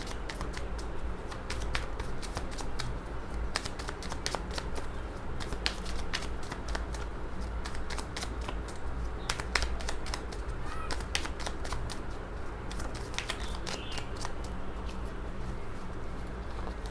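Tarot cards are shuffled for a reading in a rapid, continuous run of dry papery riffles and flicks close by, lasting the whole stretch.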